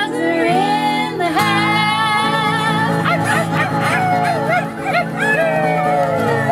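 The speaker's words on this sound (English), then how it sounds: "That was some great barking and howling." A dog barks and howls loudly in long wavering yowls and yips alongside live music outdoors at Cheekwood.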